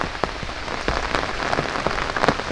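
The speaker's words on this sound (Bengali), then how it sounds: "আর আজকেও বৃষ্টি পড়তেছে" Rain falling on fields in rural Bangladesh during unseasonal rain at harvest time, a steady dense patter of drops on surfaces with scattered sharper splashes, close and continuous.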